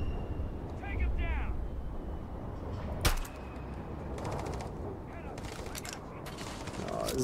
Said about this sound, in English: is those losers shooting from over there?